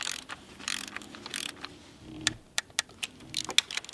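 Torque wrench ratchet clicking while tightening valve cover bolts on a Mercedes C230 engine: a series of sharp, close, evenly spaced clicks over a quiet workshop background.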